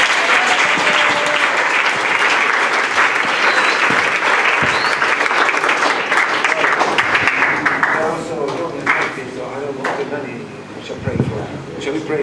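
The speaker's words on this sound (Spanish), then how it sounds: "Shall we give a clap offering to Jesus?" Church congregation claps together in a long, loud sustained round of applause at a worship service, thinning toward the end, with a voice speaking over it.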